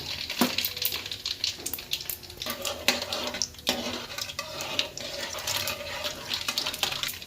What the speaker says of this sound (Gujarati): રાઈને પહેલાં ફોડી નાખવાનું